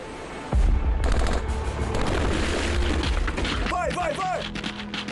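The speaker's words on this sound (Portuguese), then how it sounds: "As tropas treinam com munição real." Troops fire live ammunition during a training exercise, a dense, continuous barrage of gunshots and heavy booms that rolls on throughout, with bursts of rapid fire and whistling tones near the end.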